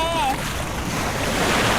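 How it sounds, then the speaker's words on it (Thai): Waves at a sea beach wash in as a loud, steady roar with wind buffeting the microphone. A brief tonal sound comes at the very start. "มาถึงทะเลแล้ว"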